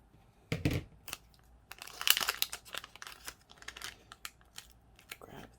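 Scissors cutting open a plastic package of nail strips, close crinkling and rustling with a few sharp snips and handling noises, no talking.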